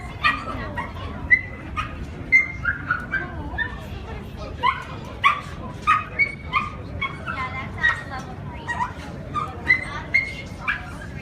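A dog yipping and whimpering repeatedly in short, high, excited bursts at close range, with a person talking in between the whines.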